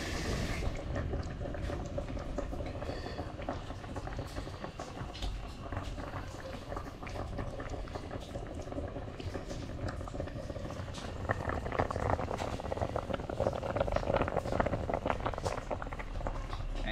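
A pot of Caribbean-style curry stew chicken with dumplings bubbling on the stove, giving a continuous soft, wet patter of simmering liquid that swells slightly louder toward the end, with no talking.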